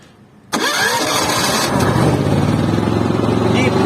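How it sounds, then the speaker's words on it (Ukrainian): A Black&Decker BXGNI6500E 6 kW inverter generator is started: a quiet lead-in, then the engine catches abruptly and settles into a loud, steady running drone, close by and heard alone. "Все, тоді пробуємо завести його."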